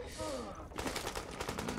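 Automatic gunfire from a crafted gun in Tom Clancy's The Division, a rapid rhythmic burst of shots starting partway in after a brief softer passage, loud and close.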